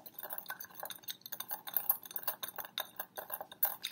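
Liquids in small containers are stirred with a plastic knife, producing light, quick clinks and taps against the sides in a steady irregular rhythm, quiet and close with no talk.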